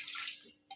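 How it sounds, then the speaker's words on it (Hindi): Water pours briefly into a cooking pot for chicken pulao spiced with ginger and green chillies, a short close splashing rush that fades and then spurts again. "पानी मैं इसमें शामिल कर रही हूँ तकरीबन"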